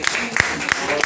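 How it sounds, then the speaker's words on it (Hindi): An audience claps at the Mera Swabhiman film premiere show, brief, fairly loud applause with separate claps standing out under a speaking voice. "और इनके लिए भी जोरदार तालियां।"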